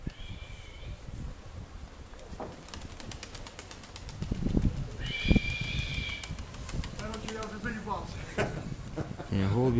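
Pigeons at a pigeon fanciers' lofts in Sirotino and Borovskoye give off a few short whistling, fluttering bursts amid outdoor rumble and scattered knocks, moderately near.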